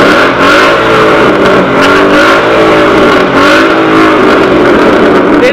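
A Ford Mustang GT fitted with a Borla exhaust revs loudly up close, its deep V8 exhaust note rising and falling in steady, aggressive pulses.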